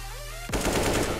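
Rapid AK rifle fire in Counter-Strike erupts loud and close after a brief musical lull, a dense burst of automatic shots running to the end.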